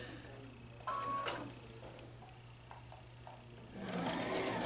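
A sewing machine stitches the final seam of a quilt block, a steady low mechanical hum with brief louder bursts of stitching near the start and end, with faint talk in the room.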